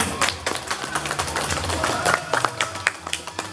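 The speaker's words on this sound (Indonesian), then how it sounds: "Tepuk tangan untuk Opung Pore dan Opung Doli" A small group claps at a children's and youth ecumenical worship gathering in Medan, scattered quick handclaps in an irregular patter lasting a few seconds, fairly close.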